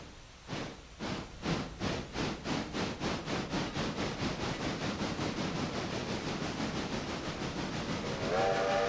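A steam locomotive in the railroad game Railroader chuffs, its rhythmic exhaust beats speeding up from slow to rapid and steady, and a brief whistle sounds at the end.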